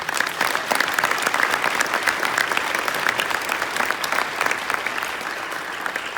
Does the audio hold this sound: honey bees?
no